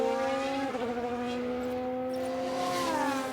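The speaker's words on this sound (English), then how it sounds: "Sounds like someone's locked up." An F1 car locking its brakes in an F1 video game, a steady high tyre squeal with shifting pitch that holds loud and continuous for a few seconds, alone without talk.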